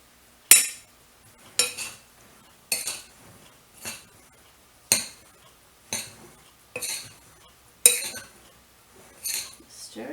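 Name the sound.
stirring rice into stuffed cabbage roll filling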